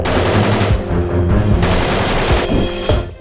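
An M2 .50 caliber heavy machine gun fires loud, sustained rapid bursts of heavy booming shots, continuous and dense with only brief gaps between strings.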